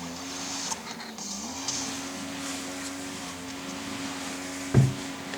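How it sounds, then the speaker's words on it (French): A lawn mower runs outside a room whose windows have been removed. It makes a faint, steady engine drone with a constant low hum, and a brief knock sounds near the end. "Désolé pour le bruit de la tondeuse à gazon."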